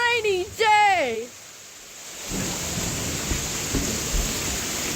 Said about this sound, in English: It's so rainy. It's such a rainy day.